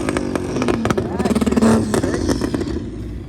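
A drag racing car's engine revs loudly at a drag strip, with rising and falling throttle bursts over about three seconds while people talk over it.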